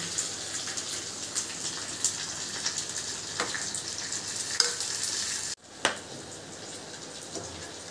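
Turmeric tips into hot tempering oil for a tamarind stew, producing a continuous close sizzle with a few crackling pops, a sudden brief cut, then the frying resumes.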